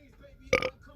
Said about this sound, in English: Small burp. I apologize.